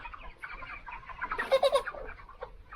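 Chickens cluck softly inside a poultry shed at night, a few low murmuring calls building to a brief burst of clucks in the middle before settling again.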